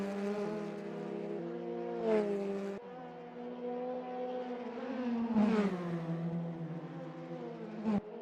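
TCR touring race cars sweep through a corner, engines droning steadily with gear changes and pitch dips as they brake and accelerate, one car passing close.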